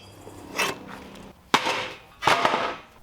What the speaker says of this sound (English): Alright, let's weld it up.